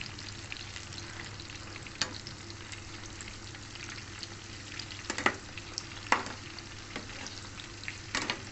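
Hotdogs frying in a pan, a continuous close sizzle and crackle with occasional louder pops and spatters throughout.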